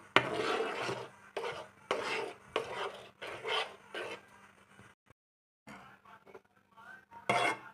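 A wooden ladle scrapes and rubs around a non-stick pan in repeated rhythmic strokes, each a short raspy swish, with a brief pause before the stirring resumes close by.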